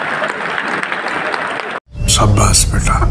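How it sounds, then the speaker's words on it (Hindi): An audience at a creators' carnival event applauds loudly for nearly two seconds, then the sound cuts off abruptly and resumes with close, noisy talk and crowd sound. "एक बार उन लोगों के लिए जोरदार तालियां जो आपके आसपास बैठे हैं"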